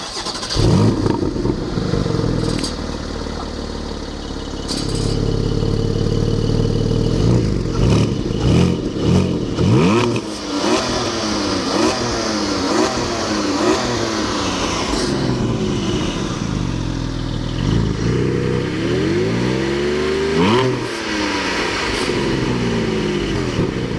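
A Porsche 718 Cayman GT4 engine on a race circuit revs hard through repeated rising sweeps and gear changes, loud and close, with brief pauses between pulls.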